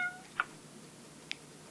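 A cat meows in the horror video game Fausts Alptraum, with two short, faint, high mews about a second apart over quiet background noise and no talking.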